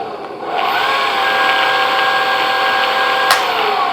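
An electric skateboard motor runs in its high gear, giving a steady high-pitched electric whine that stays level and close after a brief spin-up.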